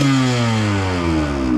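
A motorcycle engine runs loud and close as the throttle is twisted, its steady drone sliding gradually downward in pitch as the revs ease off while the bike stands in neutral.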